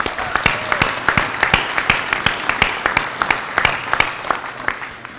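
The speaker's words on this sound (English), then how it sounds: "Give them a round of applause." Applause from an audience at a police district awards ceremony honoring officers, a steady run of sharp, close claps with a crowd's clapping filling in behind, lasting throughout.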